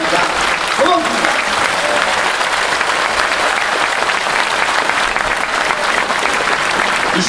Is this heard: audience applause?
yes